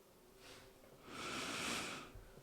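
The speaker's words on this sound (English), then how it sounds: "I can hear you breathing" Close, audible breathing on a podcast microphone: a short breath followed by a longer, louder exhale or snort-like breath, with no talking.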